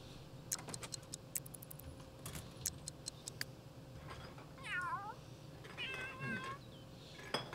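A cat in The Sims 3 life-simulation game meows twice in short rising-falling cries, over a soft steady background with scattered clicks and taps from typing.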